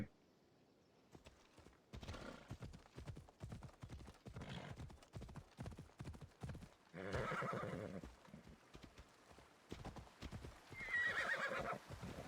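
A horse in Assassin's Creed Odyssey trots and gallops with a quick, even run of hoof clip-clops, close and distinct, broken by a couple of loud neighing whinnies partway through.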